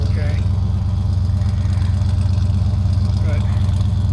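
A Ford engine with a stock Duraspark ignition idles after a cold start in 20-degree weather, holding a loud, steady, pulsing rumble throughout.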